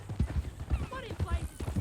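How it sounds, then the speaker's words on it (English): Horse hooves clip-clop in a steady, close rhythm in the western game Red Dead Redemption 2, while voices talk over the walking hoofbeats. "That a new horse?"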